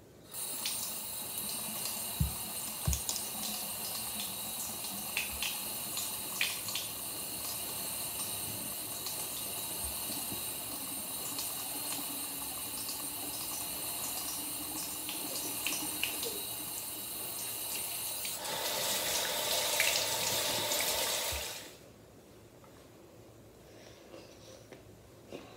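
Tap water runs steadily from a faucet into a sink while someone washes their face, a continuous close hiss that swells louder near the end before cutting off to quiet room tone.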